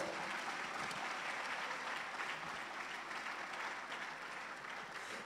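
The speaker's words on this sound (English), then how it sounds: "that's worth another round of applause" Steady, dense applause from an audience at a university research week event in Ghana, an even wash of many hands clapping at moderate distance throughout.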